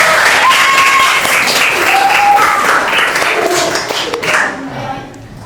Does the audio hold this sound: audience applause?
yes